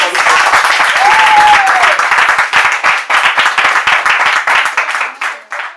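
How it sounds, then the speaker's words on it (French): A room of people at a community meeting breaks into loud, close applause that rings throughout, with rapid, dense clapping that thins slightly toward the end, and a voice is heard through it. "Ça mérite des applaudissements."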